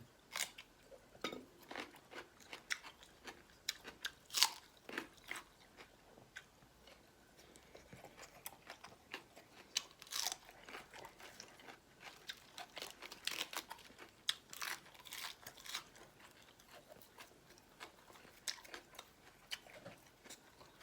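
Close, quiet chewing and soft crinkling while sticky rice with salmon cooked Lao style is eaten, the small sticky and crunchy sounds coming intermittently with no talk.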